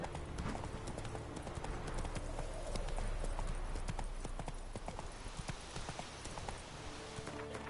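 Roach the horse gallops in The Witcher 3, rapid rhythmic hoofbeats pounding steadily and close throughout, with a brief voice heard over them.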